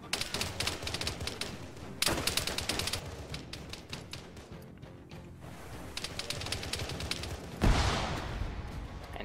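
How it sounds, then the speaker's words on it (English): Machine gun fire in a combat video game, heard as dense rapid bursts in several separate volleys with pauses between them, loud and close, plus one heavy thud near the end. "He's taking a lot of machine gun fire."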